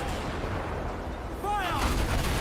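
Ship cannons boom in Assassin's Creed Black Flag, a steady rumble of naval battle that swells into a louder volley midway, with a whistling streak and shouting voices over it.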